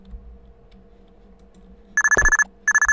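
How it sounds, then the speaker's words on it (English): A telephone rings in the game Rootman: two bursts of bright electronic trilling break in after a quiet stretch, loud and close, with a dull thump beneath the first burst. "Oh, is that the phone?"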